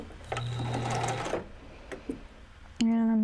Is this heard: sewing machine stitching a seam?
yes